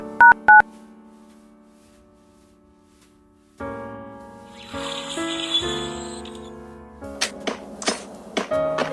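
Phone dialing tones: two short, clear beeps sound at the start, followed after a quiet pause by a run of layered electronic tones and several sharper beeps near the end, close and without talk.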